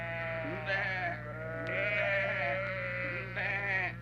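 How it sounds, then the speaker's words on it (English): Several sheep bleat repeatedly, wavering and drawn out, close by, over a constant low hum. "Listen to that bunch of sheep."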